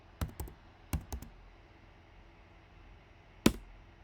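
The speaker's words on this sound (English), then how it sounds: "Let's type something." Several sharp, isolated clicks and taps from a computer keyboard, a few quick strokes near the start, then a pause before one last louder tap, close by in a quiet room.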